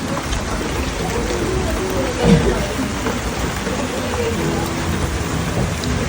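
Steady rain pours outdoors in a constant wash, with people talking faintly in the background.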